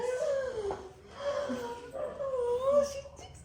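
A young puppy whimpers and whines in a rising, wavering series of high cries across the moment, fairly close and clear, with soft voices faintly in the background.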